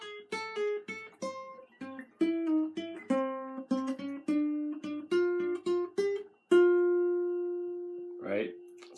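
Guitar plays the lead intro of a song, close and clear, with quick plucked notes and pull-offs before a held final note.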